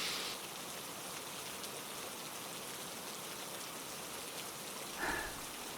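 Steady rain falling near a riverside house, a continuous soft patter with a brief louder splash near the end.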